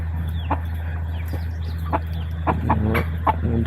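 Several domestic chickens cluck close by in a backyard pen, with soft clucks scattered over a steady low hum.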